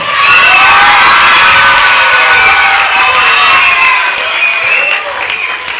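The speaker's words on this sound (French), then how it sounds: "On applaudit le hautbois" Children in a concert audience at a Peter and the Wolf show applaud the oboe, a loud, continuous wash of clapping mixed with cheering and excited shouts that holds steady and eases slightly toward the end.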